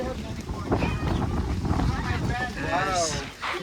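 Strong wind buffets the microphone with a low roaring rumble throughout, while voices talk and call out over it.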